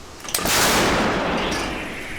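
A single loud, booming shot from an M109L self-propelled howitzer with a sharp onset, followed by a long rumbling roar that slowly fades over the next two seconds.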